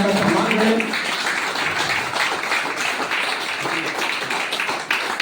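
A standing audience claps loudly at a public speech event, dense sustained applause across the whole stretch with some talk mixed in at the start.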